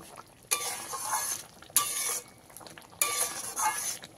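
Sugar being stirred into a potol (pointed gourd) gravy with mustard and peanuts in a pan: three distinct scraping strokes of a spoon, each about a second long, separated by short quiet gaps, close and fairly loud.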